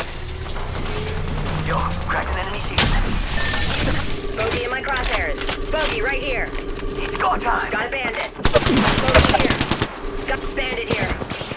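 Automatic gunfire rattles in rapid bursts during an Apex Legends firefight, with game sound effects and a louder burst near the end, while players talk over it.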